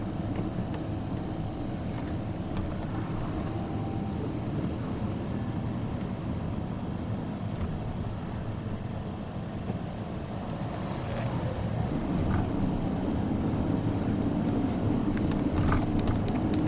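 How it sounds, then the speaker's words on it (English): Heavy road traffic crawling bumper to bumper across four lanes in New Orleans, heard from a distance as a steady, dense low rumble with a broad continuous hum that swells slightly toward the end. "Four lanes of traffic down there, bumper to bumper."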